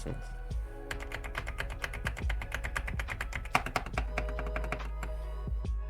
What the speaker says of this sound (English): I got a new keyboard. Do you want to hear it?